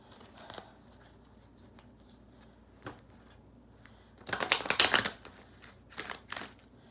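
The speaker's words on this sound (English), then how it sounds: "Okay, you hear me shuffling." Oracle cards are shuffled in quick riffling bursts, with a few soft taps before a louder flurry of shuffling near the end.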